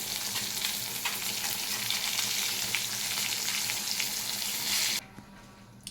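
Brinjal slices fry in hot oil one by one with a steady, close sizzling hiss that runs for about five seconds before cutting off abruptly into near silence.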